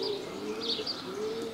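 A racing pigeon gives soft, low repeated coos close by, a couple of rolling calls in a quiet setting with no talk.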